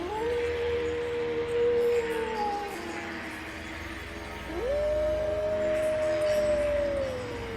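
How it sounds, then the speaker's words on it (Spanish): Two long, wavering coyote howls rise and sustain one after another, fairly close, over a low steady background hum. "Entonces el aire les trajo un aullido."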